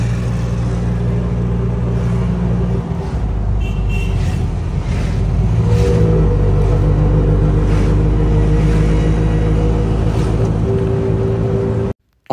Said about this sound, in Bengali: এটা লাগি আই গেলাম অটো দিয়া